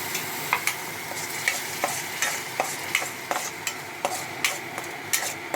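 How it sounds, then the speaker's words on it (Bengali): A spice paste for egg masala curry fries with a splash of water in a pan, sizzling constantly while a spoon scrapes and clinks against the pan in a brisk, regular stirring rhythm; no speech. "একটু জল দিচ্ছি মশলাটা ভালো করে ফ্রাই করার জন্য"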